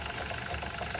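An Empire No.32 toy steam engine runs close by, giving a quiet, steady mechanical chuff with a fast repeating tick and a faint high hiss.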